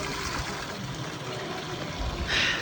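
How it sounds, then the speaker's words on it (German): Water being filled from a mountain water source along a high alpine hiking trail in Valais, a steady close splashing and running flow that brightens and grows louder near the end. "Hier haben wir unser Wasser aufgefüllt."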